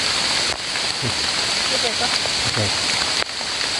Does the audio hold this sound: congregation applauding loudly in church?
no